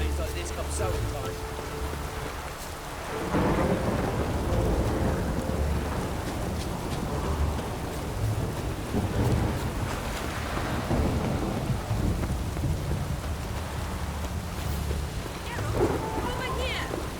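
Heavy rain pours in a thunderstorm in The Witcher 3 video game, a dense steady wash with deep rumbling thunder rolling underneath, while voices talk over it.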